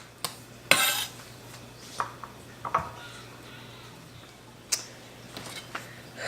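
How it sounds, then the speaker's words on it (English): Knife chopping potatoes into small cubes on a cutting board for ground-beef tacos, giving sparse, irregular close taps and clacks over a low steady hum, with a few sharper knocks. "I'm almost done cutting the potatoes"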